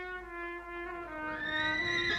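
A horse in its stable lets out a loud whinny close by, a single sustained neigh that rises and wavers toward the end, heard alone with no talk.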